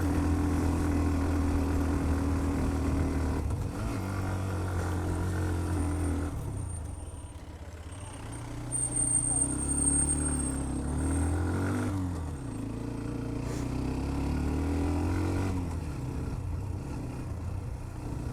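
A Hero Xtreme motorcycle engine labours up steep Konglak hill, a close, continuous drone whose pitch rises and falls as the rider works through the climb, with wind rush over it and no talking.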